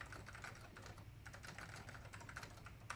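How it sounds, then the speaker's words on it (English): Rapid, clacky typing on a computer keyboard, a steady run of close key strikes with brief pauses, heard alone without voices. "I'm typing, John."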